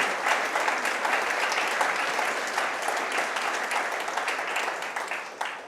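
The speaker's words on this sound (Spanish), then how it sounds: "Denle un aplauso al Señor." A church congregation applauds the Lord, a steady, fairly soft wash of many hands clapping together that continues evenly for several seconds without talk.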